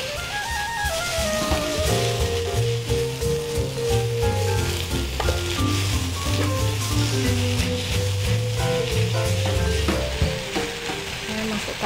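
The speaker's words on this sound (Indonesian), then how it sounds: "Terus kita aduk sampai dia agak berubah ya warnanya." Tomatoes frying in a pan while being stirred, giving a steady close sizzle with scraping stir sounds over background music and no talking.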